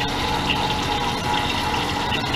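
A Pratt & Whitney Model B lathe headstock turns at low speed while oil splashes steadily inside, producing a continuous wet, churning wash of sound with no breaks.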